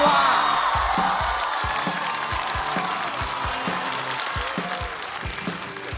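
A stand-up comedy studio audience bursts into loud applause with some whoops and cheers as a comedian comes on, starting strong and tapering slightly over several seconds.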